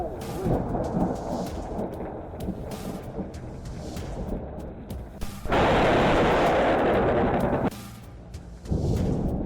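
Heavy rain keeps up a steady hiss while thunder rumbles. A loud, close crack of lightning bursts out and rolls on for a couple of seconds before the rain returns.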